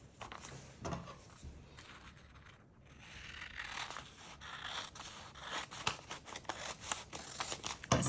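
Scissors snip through folded paper strips for a paper spinner, with a series of close, crisp cuts and light paper rustling at an uneven rhythm.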